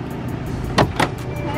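A G-Wagon car door opens with two quick close mechanical clunks of the latch and handle over a steady idling engine hum.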